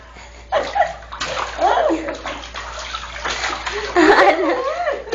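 A child splashes and sloshes water in a bathtub in loud, irregular bursts, while voices talk over the splashing.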